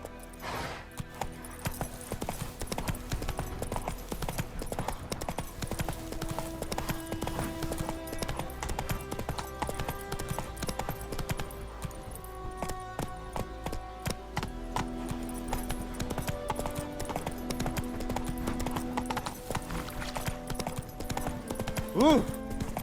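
Roach the horse galloping in Witcher 3: Wild Hunt on PS5: a rapid, rhythmic clip-clop of hooves running throughout, with game music and character voices layered on top.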